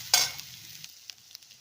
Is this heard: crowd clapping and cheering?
no